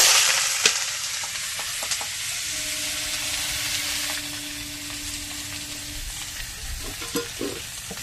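Potato, eggplant and bitter gourd pieces dropped together into hot mustard oil in a wok, setting off a loud, close, continuous sizzle that starts strongest and settles into steady frying hiss.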